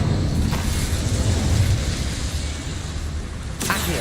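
Incendio, a fire spell in Hogwarts Legacy, gives off a loud, sustained roaring whoosh of flame, heavy and rumbling throughout, with a fresh burst near the end.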